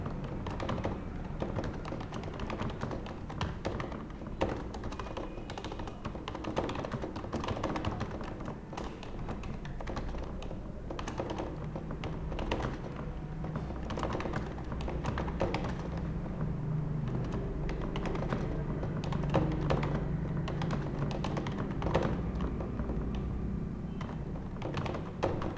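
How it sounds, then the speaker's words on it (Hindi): Letters are typed on a computer keyboard in a continuous run of quick, soft, close key taps, without pauses, over a low background hum. "ऐसे कुछ अल्फ़ाबेट्स पाण टाइप कयूं था"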